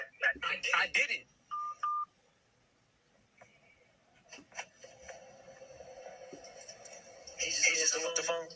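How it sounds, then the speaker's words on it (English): Telephone keypad tones beep briefly near the start, followed by handling and clatter as the receiver is hung up, with people talking in the background. "He just hung up the phone."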